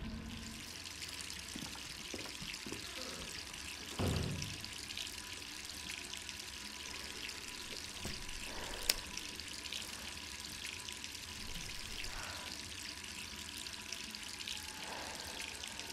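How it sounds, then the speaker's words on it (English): Water running from a tap in Resident Evil 3: a steady, faint hiss of flowing water with a few soft knocks and one sharp click, continuous throughout. "Jill has a real problem with wasting water."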